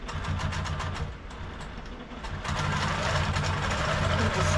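Sewing machine with a walking foot stitching across a quilted June Tailor shopping tote, a steady close mechanical whir that runs continuously and grows slightly louder partway through, with no talking.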